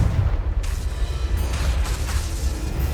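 Confringo blasting spell cast in Hogwarts Legacy, a loud, dense rumbling boom that stays sustained and close for the whole stretch with no voice present.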